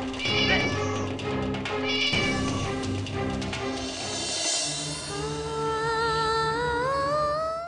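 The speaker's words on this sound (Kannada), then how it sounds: "ಹೌದು ಗಿರಿಜ, ಬೆಕ್ಕು ಬೇರೆ ಯಾರು ಅಲ್ಲ, ಬಾಬಾನೇ." A cat meows repeatedly, with several drawn-out, wavering cries close by and clearly audible, set in a dramatized devotional scene with faint background sound.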